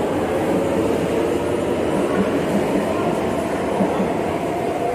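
A metro train rumbles past close by, a steady loud low roar with rattling wheels and no voices.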